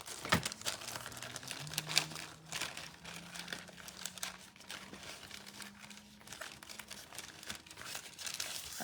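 Decorative foil crumpled and crinkled by hand, a steady dense rustle of crackling sheet material running throughout at close range, with no voices over it.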